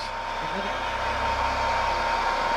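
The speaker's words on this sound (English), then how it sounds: "What, use my hairdryer in a dome?" A hair dryer blows with a steady, whooshing roar inside an observatory dome, close and constant for the whole moment, with no talking.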